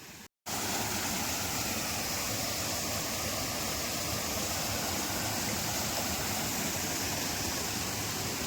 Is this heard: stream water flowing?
yes